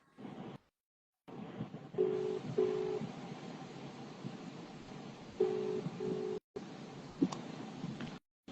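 A phone call rings out unanswered. Faint, evenly spaced ringback tones pulse through the handset amid quiet line hiss, broken by short dropouts.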